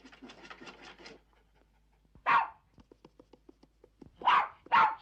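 A dog pants rapidly and close by, then lets out one sharp bark, pants more softly, and finishes with two loud barks in quick succession; no one speaks.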